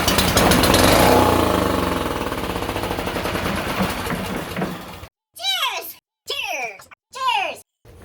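Small go-kart engine fired on ether, a loud rapid burst of popping combustion that sputters and fades after a few seconds, followed by several short spoken phrases nearby.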